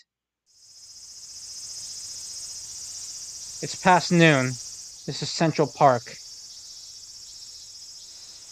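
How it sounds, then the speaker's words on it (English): Cicadas droning steadily in Central Park in a video game scene, a continuous high buzzing that fades in and holds throughout, with a voice speaking over it partway through. "The sound of cicadas is as loud as ever."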